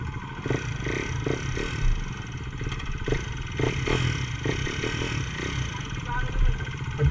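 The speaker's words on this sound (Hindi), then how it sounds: "अभी हम चलाएंगे ड्यूक 390।" A KTM Duke 390 motorcycle engine runs outdoors at a steady moderate level, with irregular bursts of revving. People talk over it throughout.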